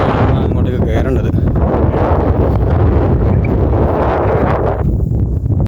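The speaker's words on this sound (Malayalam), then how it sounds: "താഴത്തേക്ക് നല്ല കാറ്റുണ്ട്." Strong, steady wind buffets the microphone at the edge of a deep drop on Paluckachi hill near Kottiyoor, a continuous roaring rush that masks nearly everything else.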